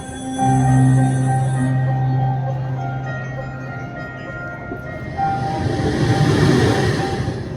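Train sound effect at the Gateway of India light show in Mumbai: a long sustained horn-like whistle tone, then rumbling rail clatter swelling toward the end, played loudly over an outdoor sound system.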